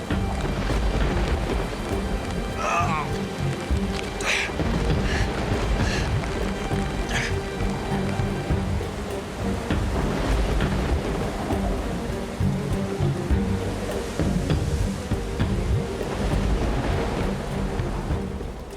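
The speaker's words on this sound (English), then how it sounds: "the relentless storm and the slippery ground are taking their toll on Bruce" Heavy rain from a relentless thunderstorm roars steadily outdoors over slippery ground, with dense washing noise throughout and faint scattered knocks and rustles, no voices.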